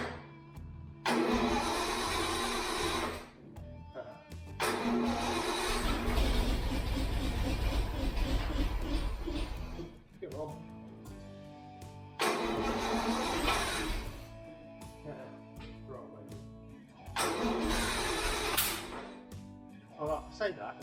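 A 50-year-old petrol Bedford engine cranks in several separate bursts of a few seconds each, loud and close, with pauses between attempts and a person talking quietly in the gaps.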